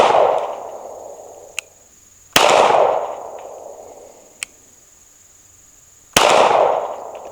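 A pistol with a micro red dot sight fires at 25 yards: three loud, sharp shots spaced a few seconds apart, each trailing off in an outdoor echo, with faint clicks between them.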